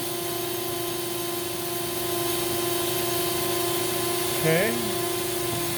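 A Hoover Celebrity Quiet Series canister vacuum cleaner runs with a steady, close whine and airy rush that rises slightly partway through, while a voice briefly speaks near the end.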